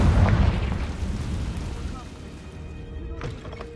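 A Confringo fire spell in Hogwarts Legacy bursts with a deep boom up front, then decays into a rumbling tail with a few faint later crackles.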